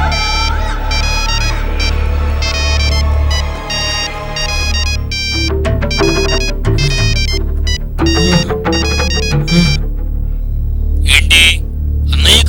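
A phone ringtone plays loudly as a melodic electronic tune with repeating bright tones over a low throb, filling the scene from a Telugu feature film for about twelve seconds.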